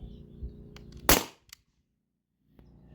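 A modified T4E HDP50 HPA pistol at 900 PSI fires a rubber ball in one loud, sharp crack, followed by a brief smaller click and then near silence.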